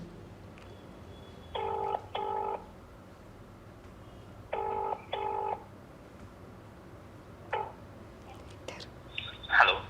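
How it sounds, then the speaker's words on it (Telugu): Phone being dialed for a call: two pairs of keypad tones, then another two, followed by shorter beeps, heard faintly over a quiet hiss with soft whispering in the room. "సో ఇప్పుడు కమిటీ కుర్రోళ్ళలో రఘువరన్ కదా, సో ఆయనకి నేను ఫోన్ చేస్తాను అనమాట."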